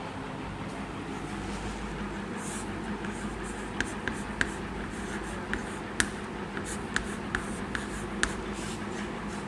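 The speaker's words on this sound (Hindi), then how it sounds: "चलो यही लिखते हैं," Pen scratching on paper while writing an answer by hand, light intermittent strokes and taps over a steady hum, close and faint.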